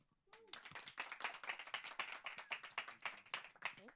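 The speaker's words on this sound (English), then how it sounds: "So give a big applause for the people here on stage," Applause from a small audience at a talk event on the Dutch ballroom scene, quiet and fairly close, with distinct individual claps in a quick, uneven patter after a brief silent start.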